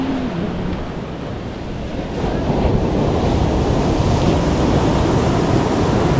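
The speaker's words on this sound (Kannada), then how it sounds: "ದೊಡ್ಡ ದೊಡ್ಡ ಭಯಾನಕ ಅಲೆಗಳು ಬರ್ತಾ ಇದ್ದಾವೆ ಇಲ್ಲಂತೂ" Big waves crash and roll onto the rocky shore at Apsarakonda beach, a loud continuous surf roar that swells partway through, mixed with wind buffeting the microphone.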